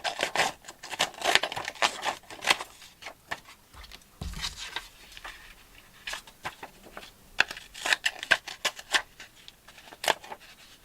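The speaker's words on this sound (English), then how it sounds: "I like the effect these scissors give, so I'm literally just cutting a piece." Scissors snip through a piece of music paper in a series of close, crisp cuts, uneven in rhythm, with brief pauses and soft paper rustles between the snips.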